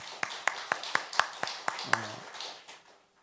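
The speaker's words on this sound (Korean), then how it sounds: "박수하겠습니다." Sparse, evenly spaced claps echo through a church during a Sunday service at Dongsan Holiness Church, about eight single sharp hits at a steady beat that fade out, with a short spoken sound partway through.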